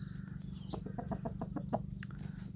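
A young, still-thin crossbred game rooster clucks in a steady run of short, evenly spaced calls over a constant low hum, close and moderately loud.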